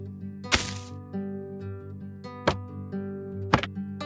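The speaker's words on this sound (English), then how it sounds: "Sounds for breaking leash knots and paintings have changed." Leash knots and paintings breaking in Minecraft: three short, sharp cracking pops spaced a second or two apart, with a sustained musical backdrop beneath them.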